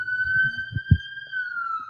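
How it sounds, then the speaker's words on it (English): An ambulance siren holds a steady wailing tone through the whole stretch as it passes along a very loud street, with low traffic rumble and a few thumps beneath it. "there goes the ambulance"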